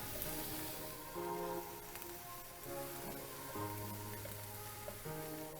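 Carrots go into a pan of cooked meat and softened onions for shepherd's pie, setting off a faint, steady sizzle that continues quietly alongside a sustained background tone.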